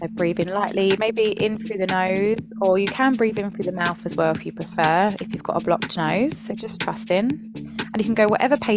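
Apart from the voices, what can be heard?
No everyday noise stands out behind the speech.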